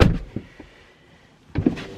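A Tesla car door swings shut with a solid thump at the start, and a second, similar closing thud follows about a second and a half later after a short quiet gap.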